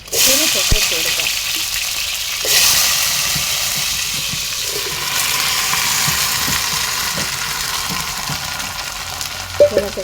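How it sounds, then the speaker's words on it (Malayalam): Breadfruit pieces dropped into a frying pan of hot oil with curry leaves, giving a steady loud sizzle throughout with a sharp burst near the start and brief clatter at the end. "ഇനി നമുക്കിതിലോട്ട് ശീമച്ചക്ക ഇട്ട് കൊടുക്കാം."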